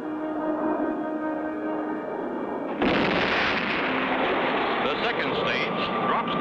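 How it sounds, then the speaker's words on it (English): A cartoon moon rocket drops its second stage and fires its third-stage engines: a steady humming drone gives way abruptly, almost halfway through, to a loud, broad rushing roar that continues to the end. "third stage rockets light up."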